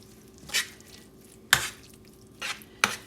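A mixture is stirred in a pot until it melts: four separate scraping strokes of a utensil against the pot, spaced irregularly over a quiet, faint background.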